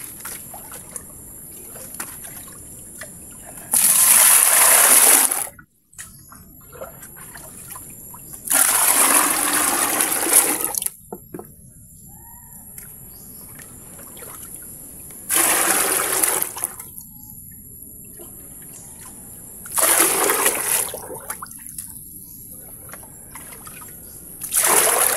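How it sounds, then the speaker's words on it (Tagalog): Water being fetched, splashing and pouring in several separate bursts of a few seconds each, close and fairly loud, with quiet gaps between them outdoors after rain. "So yan, kuha lang tayo mga boss ng tubig."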